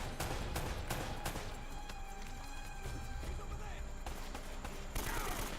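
Rapid bursts of AK rifle fire ring out in the game Uncharted: Drake's Fortune, with sharp repeated shots over steady game ambience while a voice talks quietly.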